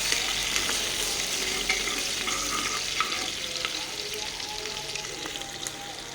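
Onions, chillies and panch phoron sizzle in hot oil in a pan, a steady fairly faint crackling hiss with scattered small pops and light stirring clinks, no voices.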